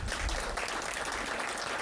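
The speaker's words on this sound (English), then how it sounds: "a big round of applause for all of you" Audience applause at a city's State of the City address, a steady dense wash of clapping filling the moment without pause.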